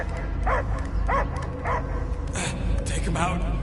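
Dog barking in the Guardians of the Galaxy video game: a string of yipping barks and whimpers at a steady rhythm over a constant low rumble, with game voices talking partway through.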